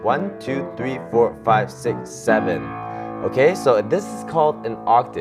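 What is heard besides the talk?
No everyday noise stands out behind the speech.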